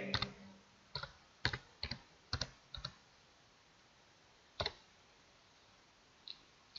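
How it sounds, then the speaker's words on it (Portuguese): Scattered keystrokes on a computer keyboard as a command is entered in AutoCAD 2016: a handful of separate, crisp clicks in short bursts with pauses between, close and moderately quiet. "você vai digitar na linha de comando"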